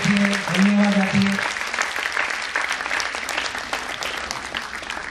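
An audience at a seminar applauds the guests, steady clapping filling the room for several seconds and slowly thinning, with a voice speaking briefly over the start.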